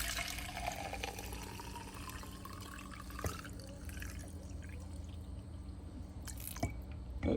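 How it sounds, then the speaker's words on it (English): Fuel drains from a Suzuki DF200 outboard's high-pressure fuel system into a glass mason jar, a faint, continuous trickle with occasional small drips and clicks over low background noise. "So let's drain this into a handy mason jar."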